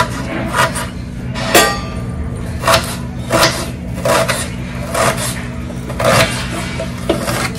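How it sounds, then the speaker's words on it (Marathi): A knife chops onion finely on a board in a home kitchen, giving sharp irregular taps about every half second over a low steady background hum. "एकदम बारीक चिरून घ्यायचा कांदा."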